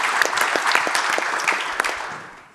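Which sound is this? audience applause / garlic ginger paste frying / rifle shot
audience applause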